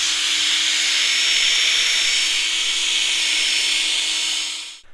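A BMW 120D headlamp lens is rubbed down with a power tool, a steady loud whirring hiss that holds evenly for several seconds, then winds down and stops at the end.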